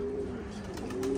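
Pigeons coo low and steady in a short, close stretch, with a soft wavering hum running throughout and faint higher bird sounds above.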